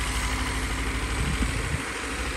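A tractor engine in a field rumbles steadily at idle, a low continuous drone with a slight chug, close and unchanging throughout.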